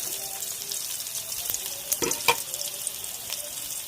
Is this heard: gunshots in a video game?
no